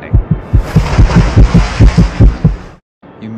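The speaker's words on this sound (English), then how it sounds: "Your heart pounding, redlining." Pounding heartbeat sound effect: loud, close, deep double thumps repeating in a fast steady rhythm, cutting off abruptly near the end with a brief resumption.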